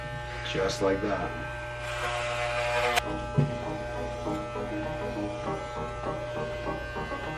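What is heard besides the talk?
electric hair clippers running during home haircut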